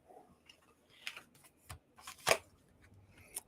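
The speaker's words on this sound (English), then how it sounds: "I'm shuffling the cards." Tarot cards being shuffled by hand, a few sharp riffles and soft flicks in brief bursts, quiet and close with short pauses between.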